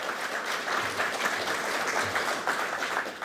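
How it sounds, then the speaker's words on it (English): A crowd at a Long Beach mayoral campaign kickoff claps steadily for a few seconds, a dense even wash of applause from many hands with no voices over it. "Let's give them a round of applause for their work."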